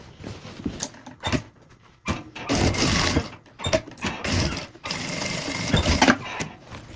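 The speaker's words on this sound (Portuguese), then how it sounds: "E vou passar a minha costura em cima dessa marcação" Sewing machine running a straight seam on a fabric necessaire box, in several close bursts of rapid stitching separated by short pauses.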